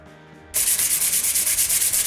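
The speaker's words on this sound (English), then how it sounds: "I sand the guitar with 220 grit up to 400" A short quiet stretch, then steady rhythmic sanding of a shellac-finished guitar body with 220 to 400 grit sandpaper begins, loud and close, with repeated back-and-forth scratchy strokes.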